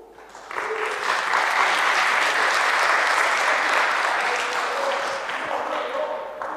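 An audience at a talk breaks into applause, rising quickly and holding a thick, even clatter of clapping throughout, with a voice faintly underneath.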